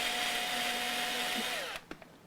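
A power drill whirs steadily during setup work on a Martin 000 acoustic guitar, running close and continuous before cutting off, followed by a few sharp handling clicks.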